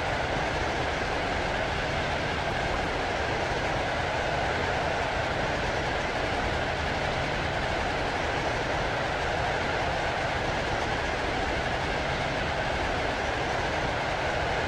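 A steady, continuous rumble of a video game train rolling along rails, constant in loudness throughout with no pauses or voices.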